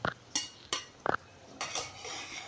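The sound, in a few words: serving chickpea greens bhaji from pan onto a plate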